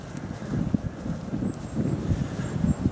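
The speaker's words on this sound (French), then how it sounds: "le vent ne nous quitte pas et malheureusement j'ai l'impression qu'il ramène à nouveau des nuages" Wind gusting around a microphone on a hike in the Vosges near Baerenthal, a steady rumbling buffet with low thumps that swell and fade throughout, loud and close with no talking.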